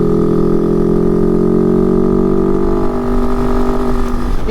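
A Kove 450 Rally motorcycle climbing a steep 20% hill in fourth gear gives a loud, steady, close engine drone with a constant pitch that holds under light throttle throughout.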